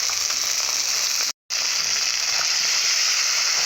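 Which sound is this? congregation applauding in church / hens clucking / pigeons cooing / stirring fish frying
stirring fish frying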